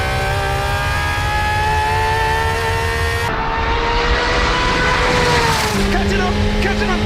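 A Chevrolet Corvette C8 ZR1 accelerates hard, its engine note climbing steadily in a loud, continuous roar, then jumping at a gear change midway and winding up again.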